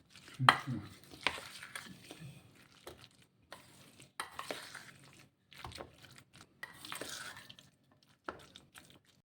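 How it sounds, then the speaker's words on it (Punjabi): A spoon stirring a thick curd sandwich filling with chopped coriander in a bowl, giving close, wet, squelching scrapes in irregular bursts separated by short pauses, with no talk. "ਹੁਣ ਆਪਾਂ ਇਹਨੂੰ ਚੰਗੀ ਤਰ੍ਹਾਂ ਮਿਕਸ ਕਰ ਲੈਣਾ"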